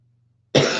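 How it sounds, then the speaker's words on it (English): A single adult cough bursts out loud and close after a stretch of near silence, with a faint low hum beforehand. "I'm sorry for coughing"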